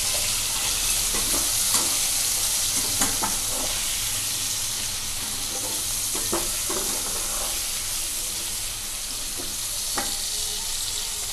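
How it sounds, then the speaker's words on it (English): Fenugreek leaves roast in a hot pan with a steady, hissing sizzle that runs throughout, punctuated by occasional light scrapes and taps of stirring. "See, our fenugreek leaves are roasted very well."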